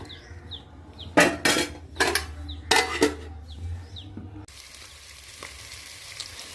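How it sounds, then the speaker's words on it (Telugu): Onions and green chillies fry in a pan for a chicken curry: steady sizzling under several loud scraping stirs and utensil clinks, close by, ending in a quieter hiss. "ఇదిగోండి ఆనియన్స్ అను పచ్చిమిర్చి కూడా వేగిపోయాయి"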